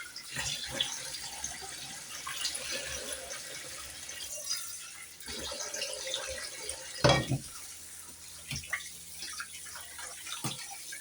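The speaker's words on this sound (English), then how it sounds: "What you're going to do is keep on washing it" Rice rinsed in a sieve under a running kitchen tap, steady splashing water with a few louder clatters and drips, moderately quiet and continuous throughout.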